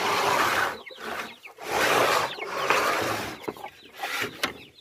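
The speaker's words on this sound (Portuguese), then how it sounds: "Essa galinha é muito espantada, gente." A startled mixed-breed hen in a backyard flock gives several agitated, scratchy clucks and squawks in bursts, close and moderately loud, with brief gaps between them.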